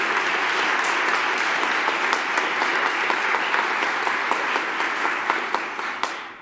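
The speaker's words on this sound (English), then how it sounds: "I think they deserve another round of applause" A large audience at a DuPage United civic assembly applauds in a steady, dense wash of clapping that holds for several seconds before tapering off at the end.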